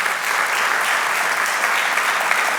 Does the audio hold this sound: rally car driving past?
no